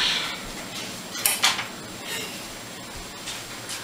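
A spoon and dishes clatter lightly in a kitchen, a few sharp clinks and scrapes of metal on crockery scattered across a quiet background, faint and close.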